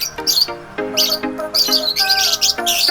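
Several birds chirp and squawk noisily at close range, overlapping bursts of shrill calls filling the whole moment.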